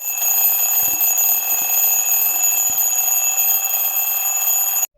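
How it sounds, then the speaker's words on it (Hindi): An alarm clock rings with a continuous, shrill electronic tone, loud and steady for several seconds before cutting off abruptly. "और अलार्म की जो इसकी आवाज़ है वो मैं अभी आपको सुनाती हूँ"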